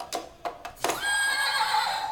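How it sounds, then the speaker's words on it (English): A toy horse gives a loud, close electronic neigh: a few short clicks, then a sustained, wavering whinny. "Let's make him say neigh."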